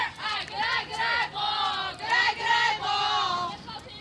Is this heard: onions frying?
no